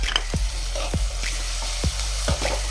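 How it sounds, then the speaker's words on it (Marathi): Ginger garlic paste frying with softened onions for pav bhaji, a moderate sizzle broken by several sharp scraping stirs against the pan over a low steady hum, no talking. "तर मी आता अद्रक लसणाची पेस्ट टाकते।"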